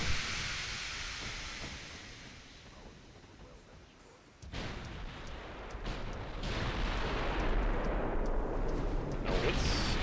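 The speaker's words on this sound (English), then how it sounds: "So at the moment, only the front turrets have been firing." Heavy battleship guns booming in a naval warfare game, the forward turrets firing while the rear ones stay blocked; dense rumbling blasts and a sharp step up in loudness midway, with a steady roar continuing afterward.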